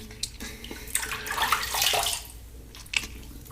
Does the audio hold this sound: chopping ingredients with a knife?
no